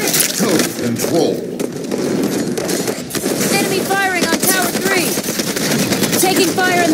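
Rapid bursts of automatic weapon fire in the Halo 5 video game, loud and continuous, mixed with explosions, game announcer callouts and a player talking.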